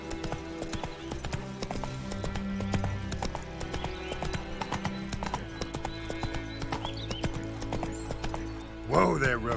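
Roach, the horse in The Witcher 3, gallops with steady clip-clop hoofbeats under game music and ambient noise, a brief whinny-like sound near the end, with some voice present.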